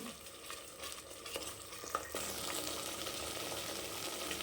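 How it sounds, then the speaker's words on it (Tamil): Egg curry gravy sizzles steadily in a pan while a spoon stirs it, giving soft scraping strokes over a continuous frying hiss, fairly quiet and close. "நல்லா அப்படி கலந்து விடுங்க."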